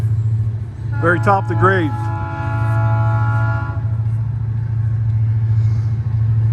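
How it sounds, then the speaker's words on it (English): A freight train approaches near the top of a long grade climbing up from Mount Zion, a steady deep rumble throughout with a sustained horn-like tone partway through, while someone talks close by. "Here comes the train."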